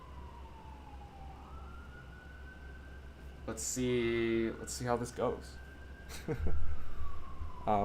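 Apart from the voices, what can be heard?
police sirens outside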